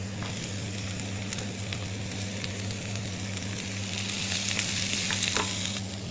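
Chopped ginger and garlic sizzle steadily in a hot pan, a close, continuous crackle with light stirring scrapes and a low hum behind it, with no one talking.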